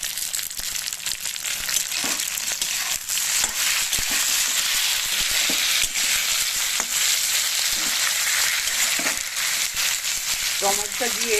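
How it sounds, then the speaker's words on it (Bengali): A large tomato frying in a pan with sautéed onion and green chilli, a steady loud sizzle with a few stirring scrapes running throughout, no talk. "টমেটোটা দিয়ে আমি 2 মিনিট ভাজবো।"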